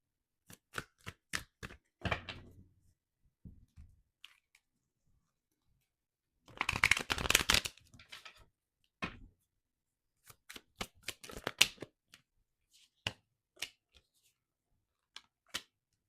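Tarot cards are shuffled by hand in soft, scattered bursts: sharp riffles and card snaps, with one longer, denser shuffle in the middle, close and fairly quiet with pauses between.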